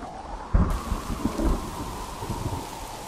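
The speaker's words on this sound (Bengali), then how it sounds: "এ কি হলো? বৃষ্টি তো শুরু হয়ে গেল।" A sudden crack of thunder breaks early in an animated rural scene, followed by a steady hiss of rain that keeps falling heavily and close.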